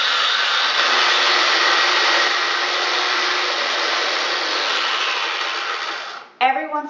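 Food processor pulsing lime and cilantro butter ingredients: a steady, loud motor whir runs for about six seconds, then stops abruptly, followed by a short burst of clattering.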